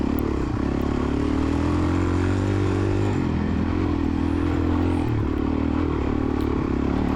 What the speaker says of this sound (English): this bike really starts to smooth out in third gear